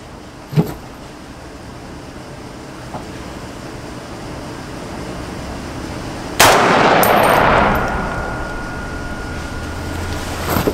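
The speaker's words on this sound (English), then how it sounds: "safety is off and I am ready to take my first shot. This rifle has never been fired until now." A single loud, sharp gunshot from a new Springfield Armory Saint Victor .308 rifle fired outdoors, its crack followed by a lingering burst of noise and echo that slowly fades, with faint clicks and handling sounds before it.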